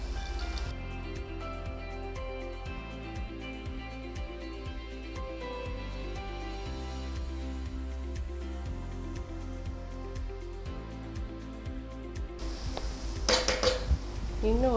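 A spoon stirs nuts into a laddu mixture in a metal pan, giving steady repeated scraping and clinking strokes. Near the end there is a brief louder rattle, with music playing underneath throughout.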